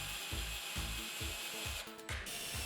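A power driver sinks black screws into a birch plywood stand in the workshop, making a close, rhythmic series of whirring pulses, about six in under three seconds, with no voices.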